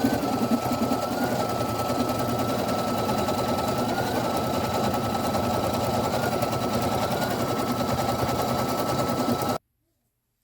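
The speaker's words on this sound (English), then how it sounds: "now I'm going to go ahead and start stitching the motif" An embroidery machine stitches a motif onto a kitchen towel, producing a loud, steady, rapid mechanical chatter with a faint whine that runs without a break for nearly ten seconds before stopping abruptly.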